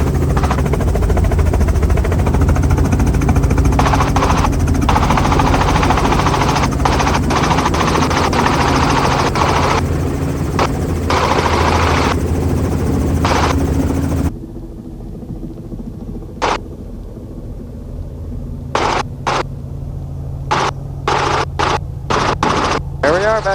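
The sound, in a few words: tour helicopter landing near Cocoa Beach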